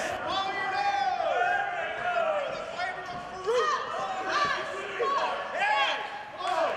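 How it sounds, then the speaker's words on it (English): A crowd at a women's extreme wrestling match roars and cheers steadily throughout, loud and dense, with shouts rising above the din and an announcer talking over it. "Navea trying to get some energy from this crowd, feed off their adrenaline"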